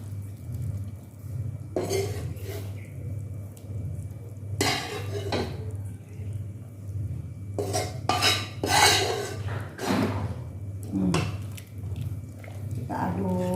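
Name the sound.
stirring fried spice paste into soto ayam broth in a pot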